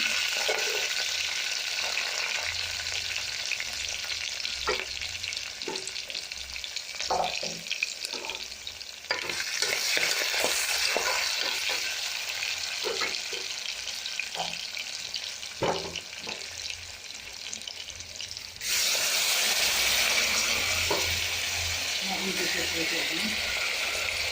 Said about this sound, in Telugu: ఫస్ట్ మనం స్టవ్ వెలిగించి కుక్కర్ పెట్టి ఆనియన్స్ వేసుకుంటాము.